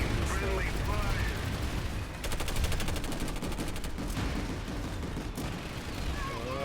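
Gunfire in the video game Planetside 2 comes as dense, loud bursts of rapid automatic shots and distant blasts, nearly continuous for several seconds over background game noise.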